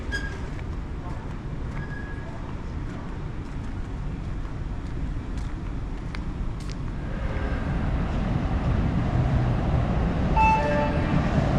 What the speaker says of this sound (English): Arriving, Orange Line, train to Parker Road Station, 2 cars.